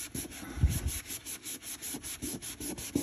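Rhythmic scrubbing of rust on a new floor, a steady back-and-forth rubbing in repeated strokes, fairly close and moderately loud, with no talk.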